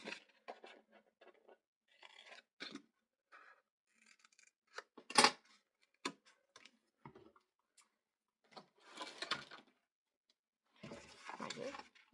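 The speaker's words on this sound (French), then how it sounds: "je vais venir découper les petits carrés ici en excédent" Scissors trimming excess small paper squares for a handmade mini album: sparse, close snips and papery rustles in irregular short bursts separated by quiet gaps, with no speech.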